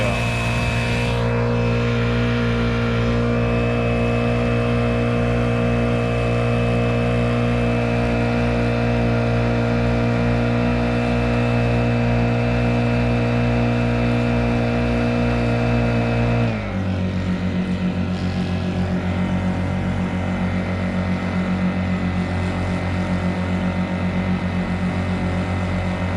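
Small lightweight outboard motor rigged on a kayak, running steadily at half throttle on a fine day, a continuous droning hum with strong tonal harmonics that shifts pitch and texture partway through, no talking.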